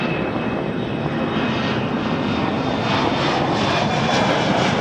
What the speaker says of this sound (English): A330-300 from Gatwick Air Transat 123 coming in on this side